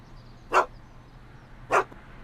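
Two short, sharp dog barks, spaced about a second apart, sound in the Back to the Future video game with faint background hum between them and no talking.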